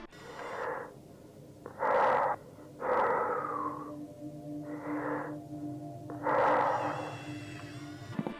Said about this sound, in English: He makes it there, but you can already tell his breathing is really off.